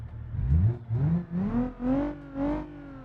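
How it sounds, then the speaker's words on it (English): A car engine with a modified exhaust revs in several rising pulses in the video game BeamNG, with a throaty, rumbling exhaust note, close and fairly loud. "Sounds like it's got a little bit of exhaust work done to it."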